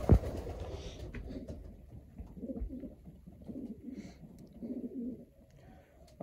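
Racing pigeons coo softly in a loft, their low rolling calls repeating in uneven phrases at moderate distance, with a brief thump at the start and faint background chirps.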